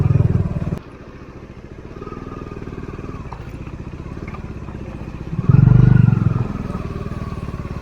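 Motorcycle engine idling and revving on a rough, barely jeepable mountain road on the winter Churdhar trek route, a steady close engine drone with a louder rev surge near the end.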